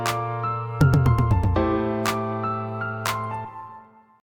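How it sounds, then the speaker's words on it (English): Programmed drum toms in Ableton Live with lowered velocities, a quick descending run of tom hits followed by a few softer tom strikes over a sustained synth chord that fades out. "So I'm going in the intro clip, finding the toms, and make them sound more human-like."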